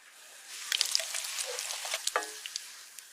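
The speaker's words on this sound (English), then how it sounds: "Fry on all sides." Sausages rolled in bread, dipped in beaten egg and coated in crumbs, sizzling in hot oil in a pan, a close, bright crackle with a few sharper pops and no voices.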